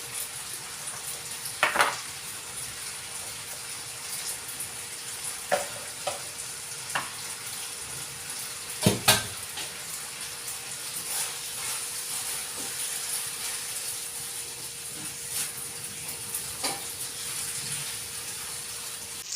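Small pat of butter sizzling and melting in a frying pan, a steady soft hiss with occasional faint pops and clinks, alone and moderately quiet.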